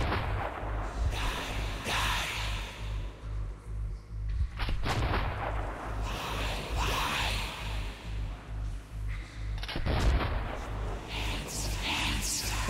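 Gunshots in Metro Redux: a few loud, widely spaced shots ring out with booming, reverberant tails over a low steady background hum.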